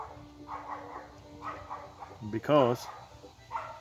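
A small dog barks in a short harmonic burst partway through, close by, amid steady talking about carving a basswood Santa egg.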